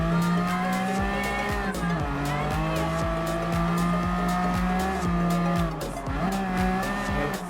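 Race cars in Gran Turismo Sport, including an Aston Martin DB11 and Porsche 911 GT3 RS, roaring with layered engine drones, rising and falling gear pitches and tire squeal, loud and continuous throughout.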